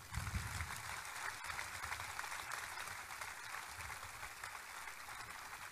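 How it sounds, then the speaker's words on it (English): Applause from an audience at a U.S. Army base redesignation ceremony, a steady wash of many hands clapping that holds evenly throughout at moderate distance, with no voices over it. "Would you please join me in a round of applause for all of them?"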